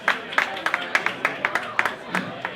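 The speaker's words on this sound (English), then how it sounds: "Going to get a big round of applause for Cameron Knuckles Keist from Queensland." Scattered applause from a small crowd at a beer-tasting joust review event for the winner, a handful of distinct claps at fairly regular intervals with a voice speaking over them.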